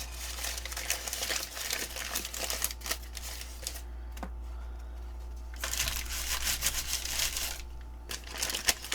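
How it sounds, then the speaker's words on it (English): Sheets of paper wrinkled and crumpled by hand in a studio while making balloon-painted papers, a quiet run of crinkling crackles and rustles with short pauses, over a steady low hum and no talk. "We can wrinkle up some more paper,"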